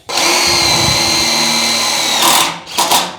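A power drill drives a screw into a grille or air dam panel on a 1940 Ford-inspired hardtop coupe build, a loud steady whine running about two seconds before winding down, then two short follow-up bursts.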